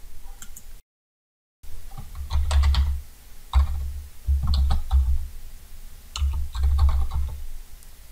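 Computer keyboard typing in quick clustered bursts of clicks, close and fairly quiet, separated by short pauses and one brief silent gap near the start.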